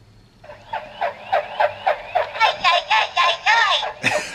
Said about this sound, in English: or the secret sound effect, when you hold this closed and push the button here.